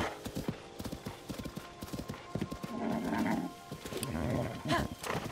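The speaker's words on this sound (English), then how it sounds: "Very good horse." A horse in Zelda: Tears of the Kingdom trots with steady, rhythmic clip-clop hoofbeats, close and clear, and lets out a whinny partway through.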